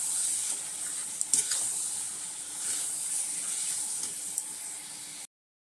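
Soybean chunks sauté in a pan, giving a steady hiss and sizzle with occasional scraping knocks as they are stirred, moderately close, before the sound cuts to silence near the end.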